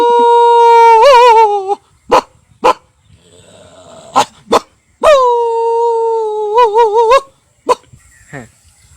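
A man imitates a big dog barking to protect its pup, giving loud, close, drawn-out howling barks and sharp short yelps in irregular bursts separated by pauses.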